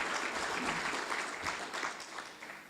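Audience applause at a fire department awards ceremony honoring personnel of the year, a continuous wash of many hands clapping at moderate loudness, tapering slightly at the close.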